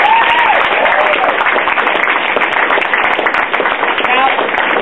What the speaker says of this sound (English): by the loudness of the clapping, who thinks the students have won this debate?